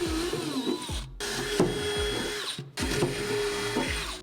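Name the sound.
drill drilling out mounting holes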